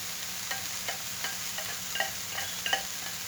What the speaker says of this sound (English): I'm kind of trying to break this rice up here.